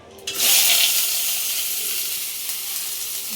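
Cinnamon, cloves and pepper hit hot oil with a sudden loud sizzle that settles into a steady, bright hissing fry, close by and continuous.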